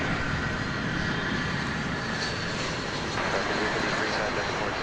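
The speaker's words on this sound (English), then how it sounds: "I believe that's flight 1189 American Airlines, an Airbus A321. Just touching down from Tampa in Florida." An American Airlines Airbus A321 touching down at Dallas/Fort Worth airport on a hazy morning, a steady broadband engine roar filling the scene throughout, with someone talking over it.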